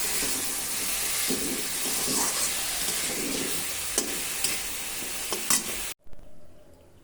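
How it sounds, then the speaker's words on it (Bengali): Spices for an egg and potato curry fry in a hot pan, giving a steady, dense sizzle with a few stirring knocks before it cuts off abruptly near the end. "দিয়ে দিই মশলাটা ভাজা হলে তারপরে জল দিয়ে দিই।"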